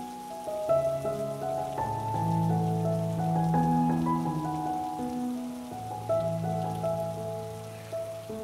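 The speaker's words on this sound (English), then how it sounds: "it is raining heavily in Kolkata" Heavy monsoon rain in Kolkata hisses steadily in the background while soft sustained musical notes play over it, with no voices.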